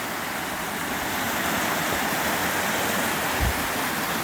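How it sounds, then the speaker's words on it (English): Dunn's Falls in Maine, water fanning out and pouring over rocks, a steady close broadband rush with no break and one brief low thump near the end. "The water just fans out, comes down over these rocks"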